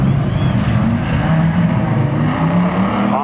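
At a spectator drag race start, an '88 Camaro and a 2003 Volkswagen GTI rev hard and accelerate together, a loud sustained engine roar with rising tones, close and without talk.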